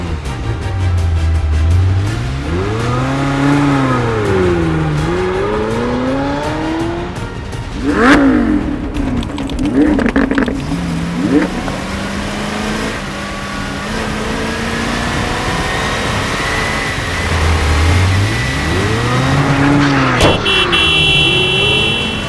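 A car in Roblox Brookhaven speeds away with loud, swooping engine revs that rise and fall repeatedly. Short buzzy tones break in midway, with no talking.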